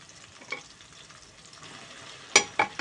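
Pressure-cooked chicken pieces go into hot oil, a faint frying hiss punctuated by a few brief scrapes and a sharper clatter near the end.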